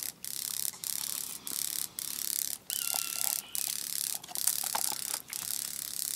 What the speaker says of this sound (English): I have these crazy grasshoppers that sound like firecrackers.